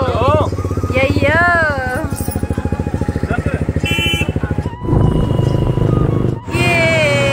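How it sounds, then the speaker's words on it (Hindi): Motorcycle engine running steadily and loudly up close, with a pulsing low rumble throughout, while people talk over it and a short dip in the engine noise near the end. "ये देखिए हमारी बाइक"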